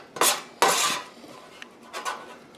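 A metal pot of beef stock being set on a stove at home: a few scraping clanks of metal on metal, a couple of them loud and close, then quieter bumps.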